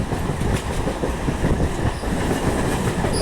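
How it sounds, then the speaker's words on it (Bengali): A Howrah–Burdwan chord local train runs at speed through Bally station, its wheels and carriages giving a steady, loud, close rolling rumble with a clickety-clack rhythm throughout. "three six eight two one Howrah Bardhaman code local ট্রেনটি দশ থেকে পনেরো মিনিট লেটেই চলছে"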